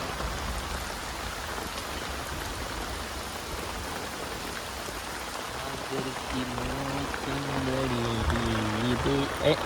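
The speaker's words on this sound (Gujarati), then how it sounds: "જો વરસાદ આવી ગયો." Steady rain falls outdoors as a constant hiss across the whole clip, growing a little heavier near the end, while a voice speaks over it in the later seconds.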